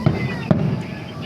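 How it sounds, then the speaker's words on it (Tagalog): New Year fireworks go off outdoors in two sharp bursts, one right after the other, against a busy background murmur. "Nanonood kami ng fireworks."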